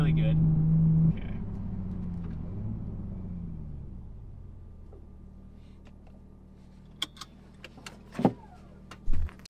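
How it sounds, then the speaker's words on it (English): Toyota GR Supra engine revving as the driver lifts and downshifts into second gear, a loud steady engine drone that drops in pitch and fades, then a few sharp clicks and bumps near the end. "we're gonna give it a little gas. Lift, downshift the second"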